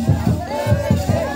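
Festival crowd at a village puja for the Maghe parv celebration, a dense babble of many voices with rhythmic low thumps that sound like drumming or dancing, steady and fairly loud throughout.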